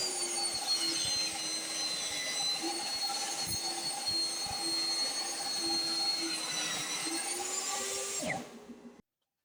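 A power tool shaves 1/8 inch off a hardboard panel in one loud, continuous whine with a steady high tone, then cuts off abruptly near the end.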